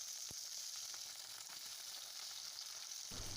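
Two thinly sliced long-cut potatoes frying in oil in a pan, a dense continuous sizzle heard up close, broken by a few brief knocks from a utensil.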